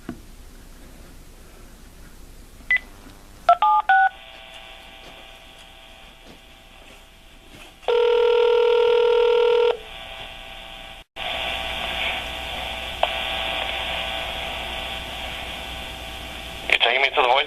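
Short electronic keypad tones on a telephone while moving through a voicemail menu, a few brief beeps followed by longer steady tones and line hum, with a voice talking in between.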